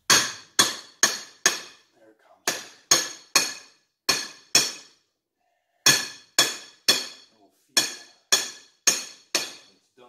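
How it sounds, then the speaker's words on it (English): A metal pole strikes upward against a stuck MGB seat headrest in sharp, ringing metallic blows, delivered in quick bursts of three to four hits separated by brief pauses, close and loud. "Got a metal pole up in there and hitting it upwards."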